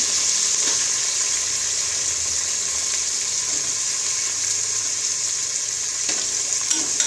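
Chopped onions frying and being stirred in a pan give a steady, dense sizzle that runs unbroken throughout, close and fairly loud, with a few faint scrapes and no talking.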